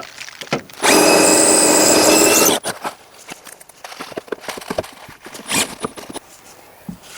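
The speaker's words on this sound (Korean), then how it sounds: "반대쪽에서 뚫어 가지고 이렇게 살짝 푸시 될 만큼 드릴날이 나왔습니다." Power drill boring through thin steel sheet during a Renault Master camper van build, a loud burst of drilling lasting under two seconds, followed by scattered knocks and handling clatter.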